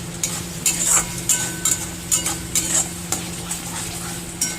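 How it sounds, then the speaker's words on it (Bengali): Rohu fish curry masala with onion, tomato and yogurt is stirred in hot oil over a high flame, a spatula scraping the pan in quick repeated strokes over a steady close sizzle. "ভালো করে নেড়ে চেড়ে এটাকে কষিয়ে নিতে হবে।"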